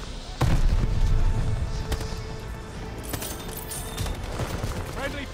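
A grenade blast in a Call of Duty Vanguard team deathmatch on the Mayhem map, a loud close boom followed by scattered gunfire and game noise.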